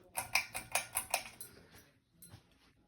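Harbor Breeze Centreville 52-inch ceiling fan being switched to low speed: a quick rhythmic run of about seven clicky mechanical ticks, then a pause and a few fainter clicks, close and quiet, with no voices.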